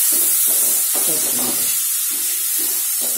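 Tomatoes go into a hot pan for aloo palak, giving bursts of loud sizzling hiss that swell and fade in several pulses, close up, with no talking.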